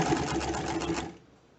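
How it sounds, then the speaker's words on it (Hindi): A sewing machine runs a quick burst of rapid, even stitching on a shirt placket, close and loud for about a second before it stops. "फोल्ड करने के बाद दोनों तरफ हमें 1/4 इंच की सिलाई लगानी है।"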